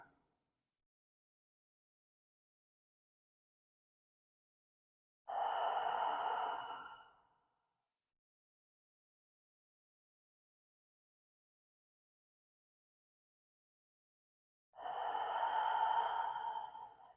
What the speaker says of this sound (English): take a couple deep cleansing breaths to arrive